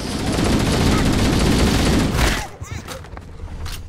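Dense automatic gunfire rattles continuously in a Halo shooter game, loud and close for about two seconds before dropping to scattered shots and softer effects.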